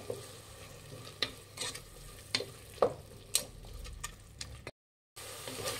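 Green masala paste and fenugreek leaves fry in a pan under a steady low sizzle, broken by a spatula's intermittent scrapes and taps, with a brief silent gap near the end.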